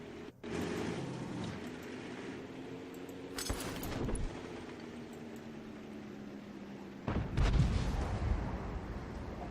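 A Lorraine 40T artillery gun firing in a tank video game, a loud booming shot followed by a rumbling tail, then a second heavy blast a few seconds later.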